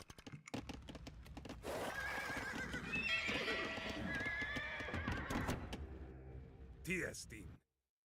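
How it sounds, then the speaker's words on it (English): A mule hitched to a cart in the Age of Empires II video game, heard as a loud whinny with hoof clip-clops and cart rumble, over a voice speaking in the game. "Grab that mule and the cart it's hitched to."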